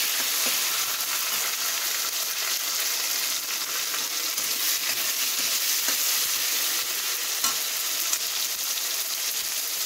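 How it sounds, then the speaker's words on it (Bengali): Tomatoes, bay leaf and nigella seeds frying in a pan for potato curry give a steady, close hissing sizzle with occasional stirring scrapes, heard alone throughout. "টমেটো, তেজপাতা, কালো জিরে দিয়ে এটা ভেজে নিয়ে আলুগুলো তুলে দেবো"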